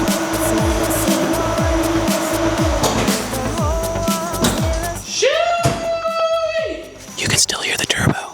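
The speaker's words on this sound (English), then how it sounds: "You can still hear the turbo." A turbocharged Miata's turbo keeps whining and spooling down after the engine's rapid rattling idle fades, leaving a high descending whistle that drifts and tails off, close and fairly loud.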